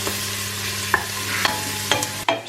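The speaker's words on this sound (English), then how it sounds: "the onions are gonna go into the pan and then need to saute it for 10 minutes" Chopped onions sautéing in a pan for a cheap vegetarian risotto, a steady soft sizzle with a low hum beneath and several sharp clacks of stirring spaced through the stretch, close and fairly loud.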